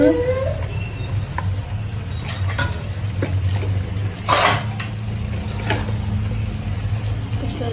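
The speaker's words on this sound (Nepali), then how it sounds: "अब यसलाई म एकखेप चलाउन जाँदैछु" Mutton gravy with spices being stirred in a pan, soft scraping and wet patter from the spoon over a steady low hum, with a few sharper clacks; a voice talks briefly in the background.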